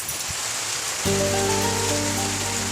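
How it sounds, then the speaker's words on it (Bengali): Evening rain hisses steadily, and a sustained tonal hum joins abruptly a second in and continues under the downpour. "বৃষ্টি নেমেছে"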